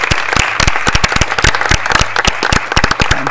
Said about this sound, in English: So I'd like to give them all a round of applause.